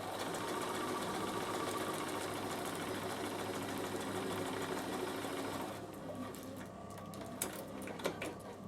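A Bernina sewing machine runs steadily with a standard 80 needle, stitching a flange on a lunch cooler bag; the close mechanical whir holds continuously for about six seconds, then eases to a lighter, softer run.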